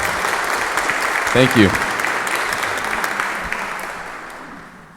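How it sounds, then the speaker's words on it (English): Sustained audience applause for a band at a fall music festival, a broad steady wash of clapping that slowly fades, with a person briefly speaking over it near the start. "Give them another round of applause, please, everyone."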